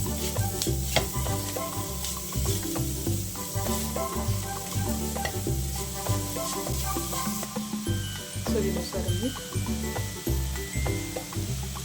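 Roasted coconut and sugar being stirred in a hot pan for a sweet filling, a loud continuous sizzle with rhythmic scraping strokes of the spoon.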